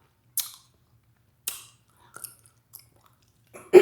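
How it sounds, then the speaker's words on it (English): Sharp, sparse mouth clicks and smacks from chewing bubblegum, four or five isolated wet snaps spaced across a quiet background, ending in a louder close burst. "you're again sucking all the juice out and off of the gum"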